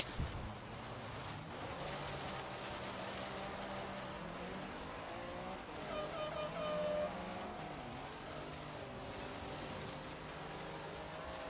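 A car in Forza Horizon 3 under handbrake, its engine droning and rising and falling in pitch in a steady, close, continuous run without a break.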